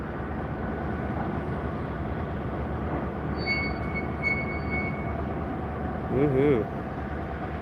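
Freight train rolling past at a railroad bridge, a CSX or Union Pacific locomotive with cars, a steady loud rumble with brief wheel squeals, and a man briefly cheers.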